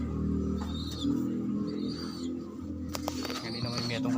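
Young homing pigeons, including a blue bar, cooing in a loft in Mabalacat, Pampanga: soft throaty coos repeating close by, with chirps and a few flutters, and someone talking.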